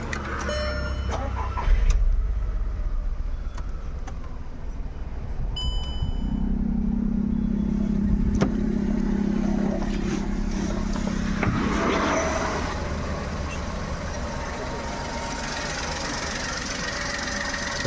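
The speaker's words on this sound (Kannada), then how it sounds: "ಗಾಡಿ ಸ್ಟಾರ್ಟ್ ಮಾಡ್ತಾ ಇದ್ದೀನಿ." A car engine, checked after AC compressor wiring work, cranks and catches near the start, then settles into a steady, rough idle that continues throughout.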